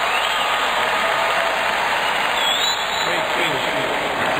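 A US Open 2010 tennis crowd applauds and cheers at a tiebreaker rally, a dense and steady wash of clapping and voices that stays loud throughout.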